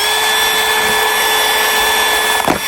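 Loud, steady whine of a power drill boring a hole through a plastic piece for a water hose fitting, running continuously and close, then catching briefly as it finishes.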